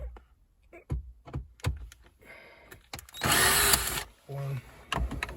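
A power screwdriver backs out Phillips screws while a BMW 1 Series E87/E88 stereo unit is being removed. Short, quiet clicks and taps lead into one louder whirring burst near the middle and a shorter buzz after it.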